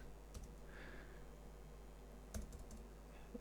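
Soft typing on a computer keyboard, a few quick keystrokes entering a new name for a material, faint and close with no voices.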